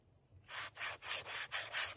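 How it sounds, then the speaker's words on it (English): Steady back-and-forth hand sanding on wood, six rhythmic rasping strokes starting after a brief quiet moment, close and fairly loud. "Are you sanding?"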